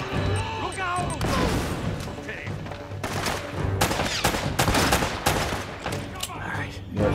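Gunfire in the action game Uncharted: Drake's Fortune, shot from the hip, with loud rapid overlapping shots, impacts and crashes filling the whole stretch while voices shout over the combat.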